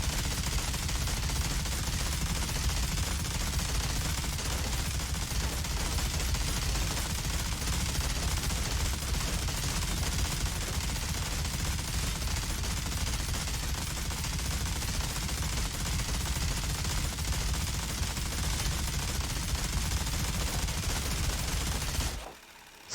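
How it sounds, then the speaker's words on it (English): A minigun fires without pause in the shooter game Outriders, a dense, continuous roar of rapid gunfire lasting over twenty seconds before cutting off abruptly. "who doesn't like shooting miniguns?"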